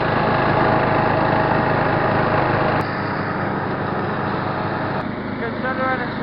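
A 1970s Simplicity Regent lawn tractor drones steadily while cutting grass, a loud continuous engine and blade rumble that shifts slightly in tone partway through.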